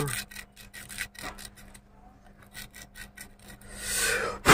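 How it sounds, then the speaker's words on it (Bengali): Close rapid scraping and rubbing strokes while cleaning a motorcycle horn contact, a quick rhythmic rasp that grows louder and harsher toward the end. "এটা ভালোভাবে ঘষে নিব।"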